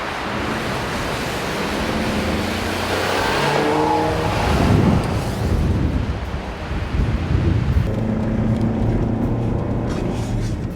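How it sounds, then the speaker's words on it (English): A Mercedes-Benz C300 and a Nissan Rogue drag race up an icy hill, their engines roaring together in a broad, loud, steady rumble that swells midway and carries on without talk. "All right, drag race up the hill."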